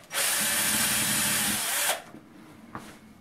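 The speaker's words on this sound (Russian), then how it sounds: "В центре сверлим отверстие." A power drill whirs steadily for nearly two seconds, boring a hole through the center of glued plastic bottle caps, then stops, followed by a faint click or tap.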